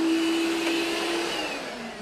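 A household vacuum cleaner hoovers indoors in the morning, a loud, steady motor whine with a constant high hum that drifts slightly in pitch, heard alone without talk.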